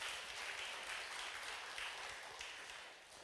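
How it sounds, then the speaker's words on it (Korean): A church congregation applauds during a Korean Sunday worship service, steady, even clapping filling the room at a moderate distance for about three seconds, easing slightly at the end. "하나님께 영광의 박수"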